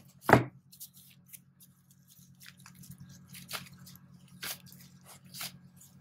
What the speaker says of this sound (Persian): ورز دادن.